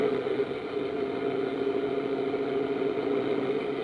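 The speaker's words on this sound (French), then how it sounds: "Là, si vous montrer le moteur, c'est un 289 d'origine." Original 289 V8 car engine idling, a steady even mid-low rumble with no revving, close and constant on its own.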